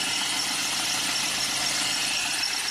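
Idling car engine, petrol or diesel, with a worn fan belt giving a thin, bird-like squeal over a steady running hum, continuous and close, with no talking.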